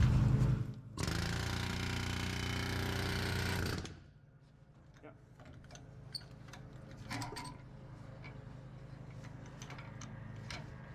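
An air chisel hammers out a disintegrating leaf spring bushing on an International bus, a loud rapid rattling burst lasting a few seconds, then quieter scattered taps and clinks of metal work.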